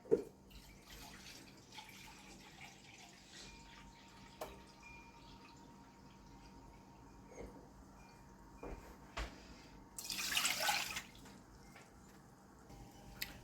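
Water pours from a measuring cup into a saucepan in a home kitchen, a short splashing gush about three-quarters through, preceded by faint clinks and quiet room noise.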